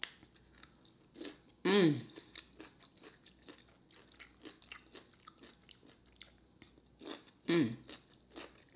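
A person chews food close to the microphone with soft, wet crunching bites throughout, broken twice by short voiced murmurs of enjoyment.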